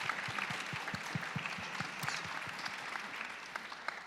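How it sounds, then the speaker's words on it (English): An audience at a tech conference's streaming panel claps for the panelists, a full, even wave of applause from a sizable room that holds steady for several seconds. "give them a round of applause"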